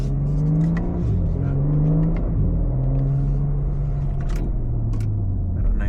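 A 2025 BMW G80 M3 LCI engine, heard from inside during break-in driving, pulls up through the revs in smooth rising and falling sweeps, a steady loud rumbling drone with gear changes and no speech.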